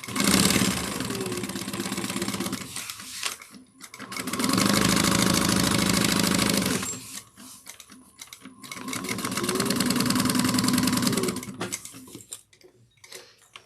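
Sewing machine stitching a bag strap in two long steady runs, a fast mechanical whirring hum that starts, holds, pauses and resumes, close and fairly loud.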